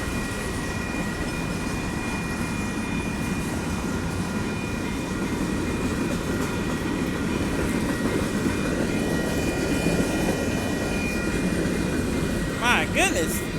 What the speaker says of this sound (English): Fifth train.